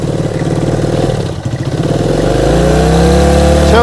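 A 1971 Honda CB100 motorcycle engine, just revived and running on choke while flooding, revs up loudly from a rough, pulsing idle into a sustained higher whine close by, with no talking.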